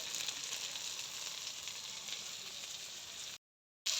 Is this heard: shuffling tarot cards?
no